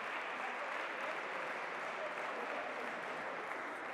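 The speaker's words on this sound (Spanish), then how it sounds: "dar también un aplauso" Audience applause at a basketball coaching clinic, a steady even wash of clapping hands throughout, fairly close and sustained, with no pauses.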